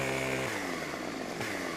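Chainsaw cutting down a tree in the video game Farming Simulator 17, a steady buzzing engine drone that drops in pitch as the blade bites, then rises briefly, continuous and fairly close.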